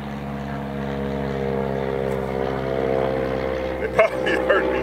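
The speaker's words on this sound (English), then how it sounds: "the neighbor's flying over with his airplane right now" A small private airplane flies overhead at night over rural hunting land, a steady droning engine hum with a constant low tone. It stays under the sound of someone talking close by, and a couple of short knocks come near the end.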